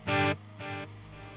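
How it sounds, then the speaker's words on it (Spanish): A shouted vocal run through a long Grand Canyon-style delay effect, sounding as a strong burst followed by a softer repeat and a faint trailing echo, alone with no other sounds. "And one more time, Grand Canyon delay"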